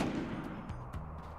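Small defensive turrets fire during a battle in the video game Rimworld, giving a short run of muffled gunshots close together that rumble for a moment.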